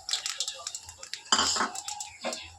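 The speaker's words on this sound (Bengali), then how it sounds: "বেসনটা দিয়ে খুব ভালো করে তেলের সাথে নেড়ে দেবো" Gram flour is stirred into hot oil with fried mustard seeds and dried red chilli for a drumstick curry, giving scraping, clinking spoon-on-pan strokes in an irregular rhythm, close and moderately loud, with a voice speaking at points.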